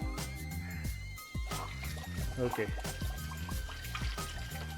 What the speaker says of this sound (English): So this is the external water hose, and I'm gonna turn on the water really fast,